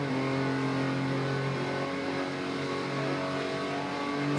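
A Porsche 911 engine in a racing video game set at the Nürburgring howls at high revs, holding a loud, steady, buzzing tone throughout with no voices.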